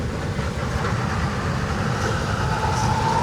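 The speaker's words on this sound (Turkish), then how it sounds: "Burası kendi tren istasyonu." At the railway station in Kandy, Sri Lanka, a train rumbles with a steady low mechanical drone and faint rail clatter, constant and fairly loud with no talking.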